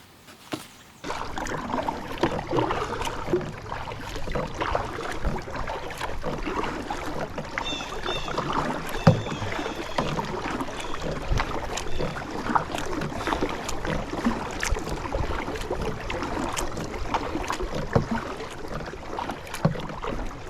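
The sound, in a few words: kayak paddling on a pond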